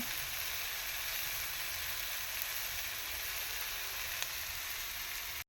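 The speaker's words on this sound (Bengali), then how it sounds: "আমার এখানে পেঁয়াজ আর কাঁচা লঙ্কা ভাজা চলছে চাউমিনের জন্য" Onion and green chilli frying in oil for chowmein, a steady unbroken sizzle heard close up and fairly quiet, with no voices and no other sounds.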